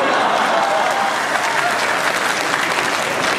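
Dense, loud audience applause fills a Hindi comedy show by Dinesh Bawra, a steady wash of many hands clapping at once with no break.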